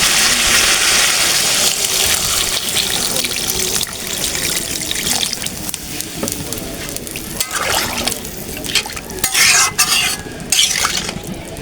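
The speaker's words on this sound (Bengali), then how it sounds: "এখানে আমি ঝোলের পানি দিয়ে দেবো এখন" Water poured into a pan of chicken curry with potatoes, the liquid splashing and trickling over sizzling, stirred meat, steady and close for about eleven seconds, with louder splashes near the end.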